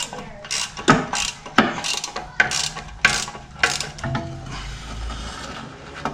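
A ratchet wrench clicks in quick bursts while loosening exhaust downpipe bolts on a turbo 2.4 PT Cruiser, several short ratcheting runs close up, ending in a low rumble.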